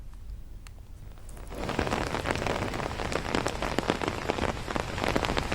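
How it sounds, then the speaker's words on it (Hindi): Heavy rain pours down in Jaipur, starting lighter and then surging into a dense, steady drumming on hard surfaces, loud and continuous with no voices. "तेज बारिश यहां पर अभी भी जारी है"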